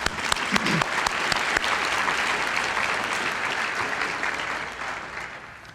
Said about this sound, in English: Let's give Ralph another round of applause.